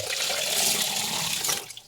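Water poured into a drinking glass to soak okra, a close, steady splashing rush lasting about two seconds that thins out and trails off at the end, with no talking.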